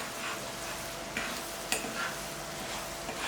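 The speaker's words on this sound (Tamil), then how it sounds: "வெங்காயம் நல்லா பொன்னிறமாக வறுக்கட்டும்." Finely chopped onions fry in a pan on an outdoor cooking setup, giving a constant close sizzle with a few brief stirring scrapes and no talking.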